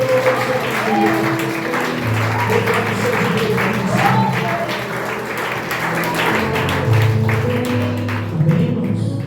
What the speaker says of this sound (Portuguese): Dê um aplauso a esse Deus maravilhoso